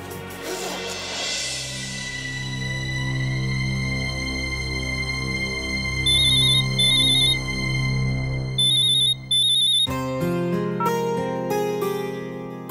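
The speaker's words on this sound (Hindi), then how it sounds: "हाँ राशि, तुमने फोन किया?" A melodic electronic phone ringtone plays continuously, with repeating tonal phrases and a brighter shift near the end, loud and close, no speech.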